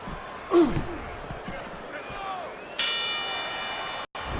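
In the Fight Night Round 4 boxing video game, a bell clangs to end the round, a bright ringing tone that hangs on after a thud and crowd noise, loud and close.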